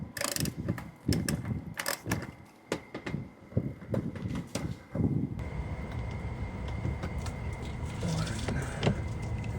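A ratchet clicks in quick bursts while 10mm screws are removed from underneath a Fisker Ocean electric SUV, with tool handling and clunks close by.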